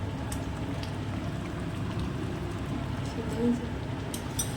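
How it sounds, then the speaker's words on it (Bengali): Mutton curry bubbling steadily in a pot, a dense low burbling and popping that runs the whole time at moderate level, with one slightly louder bubble burst near the end. "এই যে ফুটছে টপক টপক করে।"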